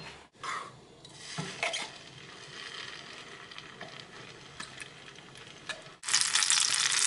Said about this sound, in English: Now I will stir fry the green peas.